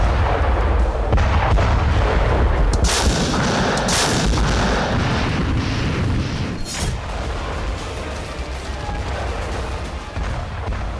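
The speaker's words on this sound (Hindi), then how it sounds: "इन सभी इलाकों में रूसी सेना ने ताबड़तोड़ अंदाज में मिसाइलें दागी और पूरे इलाके को धुआं-धुआं" Missile strikes in wartime footage from Russian forces bombarding areas of Crimea produce loud, continuous booms and blasts, with several sharp cracks standing out over a dense rumbling roar that never lets up.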